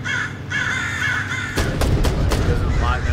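Pigeons in the Black To Fall video game: harsh cawing bird calls, loud and close, then a burst of sharp repeated impacts and calls toward the end, with a voice talking faintly underneath.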